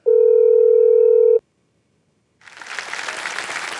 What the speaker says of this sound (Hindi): फोन लगाया जाए।